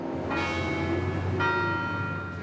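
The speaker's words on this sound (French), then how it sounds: "Le carillon retentit tous les quarts d'heure." Clock tower carillon on a Big Ben replica in Buenos Aires, ringing bright sustained bell tones that strike at two points and hang on with a long ringing decay, heard clearly against steady outdoor background noise.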